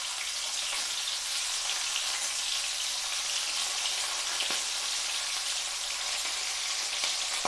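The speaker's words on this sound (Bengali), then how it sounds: "মাছ আমার এক পিঠ ভাজা হয়ে গিয়েছে" Fresh khoira river fish fry in a pan with a steady, dense sizzle and crackle that holds evenly throughout, close by with no voices.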